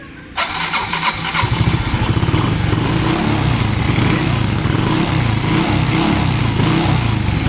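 A Kawasaki Fury 125 motorcycle engine cranks and catches almost at once, then settles into a loud, steady, close-up idle with a regular pulsing throb that runs to the end.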